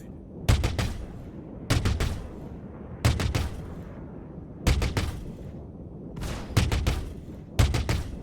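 Gunfire in the video game Star Citizen, six separate rapid bursts of automatic shots, each lasting about half a second and spaced roughly a second apart, loud and punchy against a low background hum.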